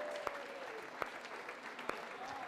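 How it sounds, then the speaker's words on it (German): Sustained applause from a church congregation welcoming a baptism fills the space, a dense patter of clapping with a few sharper individual claps standing out. "Und dann gibt es noch einen Applaus als herzliches Willkommen."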